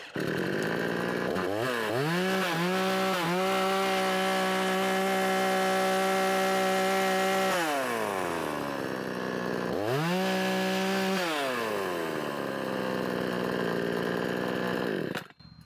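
A Parkside Performance PPBKS 56 A1 petrol chainsaw with electric start runs close and loud, revving hard in two long bursts with a rising whine, then settling back to a lower idle between and after them.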